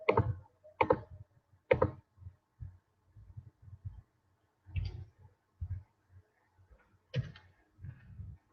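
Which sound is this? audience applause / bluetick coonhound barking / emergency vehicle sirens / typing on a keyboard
typing on a keyboard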